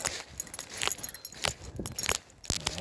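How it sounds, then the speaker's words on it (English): Keys jangle in a series of bright, close metallic rattles while someone walks through quiet woods, the jingling coming in irregular bursts with brief pauses between them. "Sorry about my keys,"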